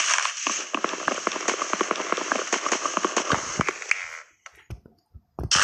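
Rain in the Minecraft video game patters steadily as a dense hiss with scattered crackling drops, then thins and breaks off into a few isolated taps near the end.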